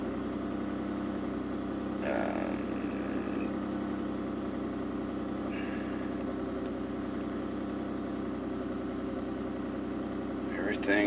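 A third-generation Toyota 4Runner engine running just after a performance chip install: a steady, close engine drone with a few brief higher bursts, and voices talking over it.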